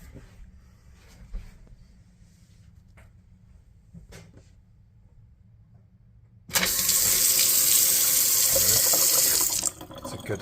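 A Delta single-handle faucet, freshly repaired with a new cartridge, is turned back on and water gushes loudly into the sink for about three seconds before cutting off, following quieter handling noises.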